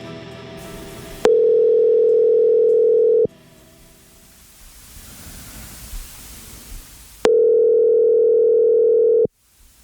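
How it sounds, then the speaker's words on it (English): Telephone ringback tone on an outgoing call to someone's number: two long steady electronic rings separated by a pause with faint line hiss, clear and close, no voices. "and listen as the phone rings."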